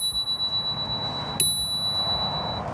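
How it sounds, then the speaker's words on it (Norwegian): Bell on an E-Wheels E2S V2 Max 2020 electric kick scooter, heard as a single ring with a sustained tone that fades slowly against steady background noise. "Den har en ganske grei bjelle."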